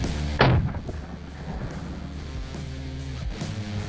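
An M79 grenade launcher round explodes with one heavy, booming blast that rumbles away under steady background noise.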